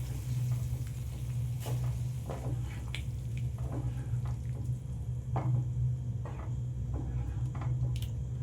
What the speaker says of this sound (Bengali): দিয়ে আমি ভালো করে সবজির সাথে ডালটা মিশিয়ে নিচ্ছি।